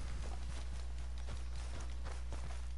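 A horse's hooves clip-clop at a walking pace in the video game Red Dead Redemption 2. The evenly spaced, fairly soft hoofbeats sit over a constant low background hum.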